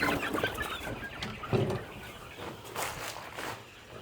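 Backyard homestead chickens cluck in short, scattered bursts at close to moderate range, with some rustling and movement around them and no talking.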